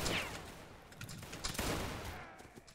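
Musket volley from a line of soldiers in a Napoleonic-era battle game, Saxon and Prussian infantry, heard as a dense crackling burst of many shots with rolling echoes and scattered follow-up reports, no voices.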